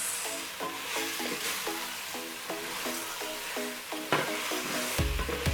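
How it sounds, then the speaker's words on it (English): Chips being stirred gently in masala sauce in a pan, with soft sizzling under repeated rhythmic scrapes and clinks of a spoon against the pan, ending in a louder knock. "Then stir gently so that they can coat well"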